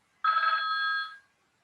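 An incoming phone call sounds as a single short electronic ring tone burst, clear and moderately close in an otherwise quiet room.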